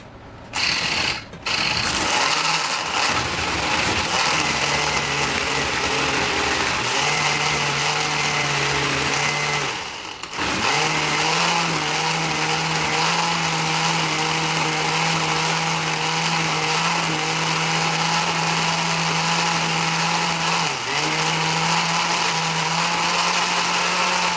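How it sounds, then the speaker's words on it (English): A blender runs continuously, close and loud, pureeing chicken liver into a smooth liquid. Its motor whine holds steady, dips briefly once near the middle, and then resumes at a slightly shifted pitch as the contents thin out. "What you want to do is blend this out until it's nothing but just almost like what you would consider like a liver smoothie"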